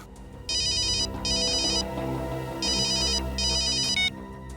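A mobile phone ringtone plays in four repeated electronic bursts with brief gaps, loud and close, over a quiet dramatic music bed.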